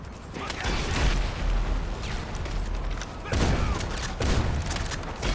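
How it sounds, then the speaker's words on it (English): Explosive weapon rounds striking the ground in a Beach map shooter game, a series of loud booming blasts with dense mechanical crackle, bursts recurring near 0.5, 3.3 and 4.2 seconds. "It shoots like that. That is basically like explosive on the floor."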